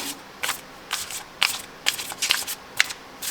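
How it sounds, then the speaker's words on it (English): Close, crisp bursts of a deck of tarot cards being riffled and shuffled, about seven quick papery flurries in an irregular rhythm over a quiet background. "it feels more like a nice indie deck when shuffling. The cards, they have nice sound."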